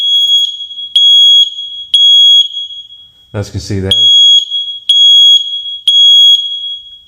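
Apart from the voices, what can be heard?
smoke alarm test beeping after pressing test button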